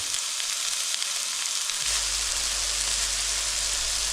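Onions and carrots frying in a pan for a lamb tagine, an even, hissing sizzle throughout, joined midway by a low steady hum, with no talk.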